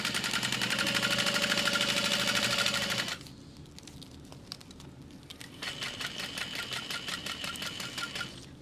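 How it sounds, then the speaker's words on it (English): A sewing machine bastes backpack pieces and side connectors in place, stitching in rapid even bursts: a steady run, a pause with faint handling clicks, then another continuous stitching run. "So now I'm basting everything in place, including my side connectors."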